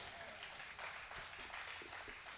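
Audience applause at a Hindi kavi sammelan poetry event, a steady dense wash of clapping that carries through the whole stretch at moderate loudness, with no voice over it.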